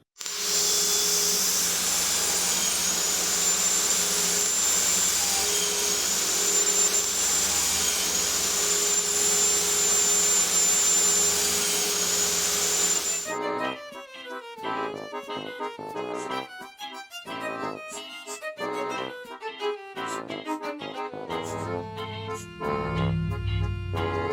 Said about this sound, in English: we're going to cut them 1/8 of an inch deep, just 1 blade width